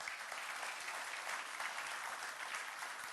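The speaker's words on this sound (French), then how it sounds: "On va d'abord applaudir le lycée des Lumières qui nous accueille ce soir." Audience in a school amphitheatre applauding the host lycée at a sports awards ceremony in Mayotte, a steady wash of clapping heard from a distance, fairly faint and even, with no speech.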